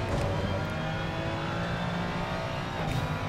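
A race car in the Assetto Corsa Competizione game accelerates at full throttle out of a corner, a steady, dense engine drone with a high whine that holds loud and constant throughout.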